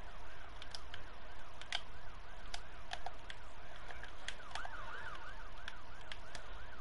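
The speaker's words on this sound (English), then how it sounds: "Can I, like, turn off the sirens?" Wailing sirens rise and fall in a steady, repeating pattern at moderate volume, mixed with sharp clicks and taps up close.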